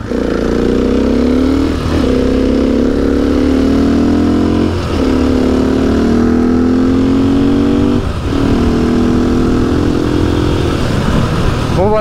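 A modified KTM 450 EXC-F supermotard engine revs loudly up close in repeated rising pulls, each climbing then briefly dropping back, about four times in a row.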